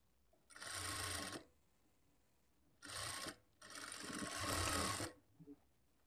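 A sewing machine stitches a lining blouse in three close, rapid bursts of whirring needle clatter, with quiet pauses between runs and no talking.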